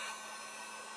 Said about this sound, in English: Do a little more heat gunning. I apologize for the noise. I use the heat gun a lot